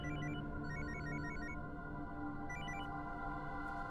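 A telephone ringtone repeats in short electronic bursts while a call is placed to Vijay Kumar, a quiet patterned trill over a steady low hum, with no voices.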